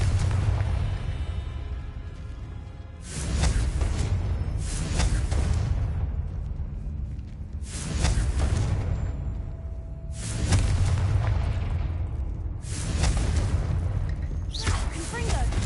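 Confringo spell blasts in Hogwarts Legacy, five or six heavy booming explosions spaced a few seconds apart, each a loud rumbling burst that swells and decays over steady background sound.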